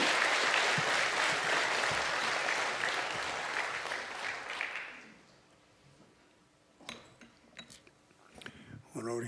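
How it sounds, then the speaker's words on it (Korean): A church congregation gives loud, sustained applause at a Sunday invitation service to welcome the pastor. The clapping dies away after about five seconds, and then a few close clicks and small handling noises follow. "큰 박수로 우리 목사님 모시겠습니다"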